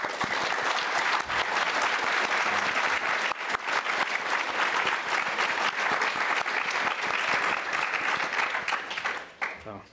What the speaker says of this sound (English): So give yourselves a big hand.